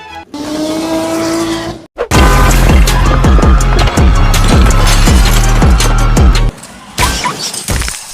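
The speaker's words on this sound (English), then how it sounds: "I'm gonna crash this car into a giant Lego skyscraper" A car crashes into a giant Lego skyscraper with a built apartment inside, making a sharp smash and plastic clatter, followed by dense, rhythmic, music-like sound that runs loudly for several seconds.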